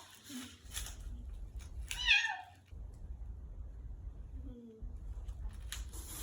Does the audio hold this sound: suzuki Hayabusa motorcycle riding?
no